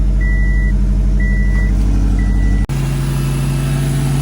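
A 2007 Subaru WRX with an STI turbo, STI intercooler and new downpipe runs with a steady, loud low engine hum. Three short evenly spaced beeps sound over it, then the tone shifts abruptly to a smoother drone.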